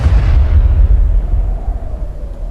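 A hand cannon, a bazooka fired from the shoulder, lets off one loud, deep boom. Its low rumble and debris noise fade out over a couple of seconds as the shot strikes its target.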